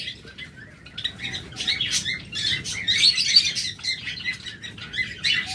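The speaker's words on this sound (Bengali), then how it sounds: "অসংখ্য পরিমাণ জবা পাখি রয়েছে" Java sparrows in a colony keep up a busy chorus of high chirps and tweets, moderately close and steady, over a faint low background hum.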